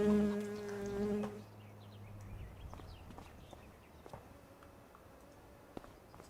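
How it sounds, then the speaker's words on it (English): Insects buzzing in the farming game Farming Simulator 25, a steady bee-like drone with faint ticks and footstep-like taps, following a louder tonal musical passage at the start. "I swear I just heard bees."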